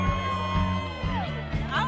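A crowd at a bull-riding event cheers and whoops for a mystery cowboy, a continuous mid-distance roar with scattered high shouts.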